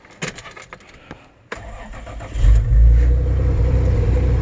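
A 1992 Toyota 4Runner with the 3.0 engine cranks and fires up after a few preliminary clicks and knocks, then settles into a loud, steady, slightly high idle close by.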